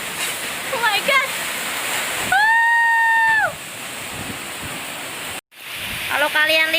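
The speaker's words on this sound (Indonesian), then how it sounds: "makin gede hujannya. Anginnya juga makin deras tuh lihat." Heavy rain and strong gusting wind during a storm in Kalimantan, near a beach, make a loud, steady broadband roar that fills the clip. It cuts out abruptly near the end, and tonal voice-like sounds sit over it.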